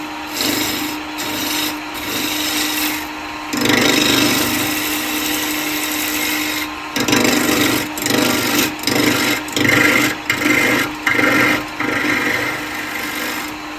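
Wood on a lathe being turned into a cowboy hat, with a chisel cutting above centre to form a tenon: close, harsh scraping and rasping runs in bursts, with a sustained stretch followed by a series of short repeated cuts.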